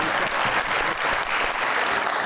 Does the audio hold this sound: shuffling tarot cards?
no